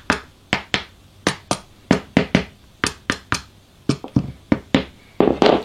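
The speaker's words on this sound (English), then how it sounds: "tapping it with a hammer can get the joint" Sharp hammer taps on a clamped wood joint, about twenty close, crisp strikes in an irregular rhythm with brief pauses, ending in a quicker cluster of blows; no talking.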